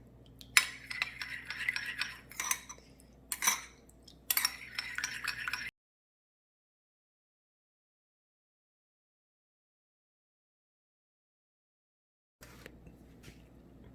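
A spoon stirs cake mixture in a bowl, close clinks and scraping taps in bursts over the first half, then silence, then faint clinking again near the end, no talk.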